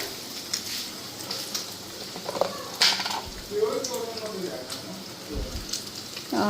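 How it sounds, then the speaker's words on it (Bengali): Sizzling and crackling of soybean chunks frying in a pan with chili powder, turmeric and salt, with occasional stirring clatter and brief bits of nearby talk. "ওইদিকে সয়াবিন ভাজা করতেছি"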